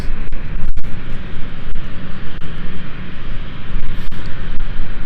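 Loud, close airplane engine roar at London City Airport, a dense sustained rumble with pulsing swells as the aircraft turns on the apron, without talk.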